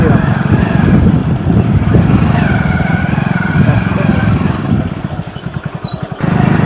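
A motorcycle rides through deep mud in a farm field. The engine drones steadily up close, then dips and pulses in quick bursts near the end as it struggles before picking up again.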